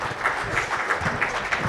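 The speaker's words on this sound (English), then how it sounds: "The claps cannot go meeker than this" Audience applause for a session chair at an automotive workshop business conference, steady and fairly subdued, a continuous patter of clapping with slight swells throughout.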